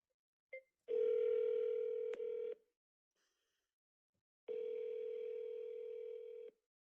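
A phone dials out to an AI agent: a short keypad tone, then two long, clean ringback tones separated by silence, close and clear with no talk.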